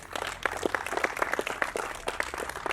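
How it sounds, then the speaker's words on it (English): An audience at an outdoor ribbon cutting ceremony gives a round of applause, with distinct hand claps from a modest group in a steady, lively patter close by. "So how about a huge round of applause?"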